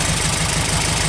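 Engine of a 1961 Australian-made Volkswagen Beetle running, a loud, even, close-up idle with a fast rhythmic air-cooled chatter and no breaks.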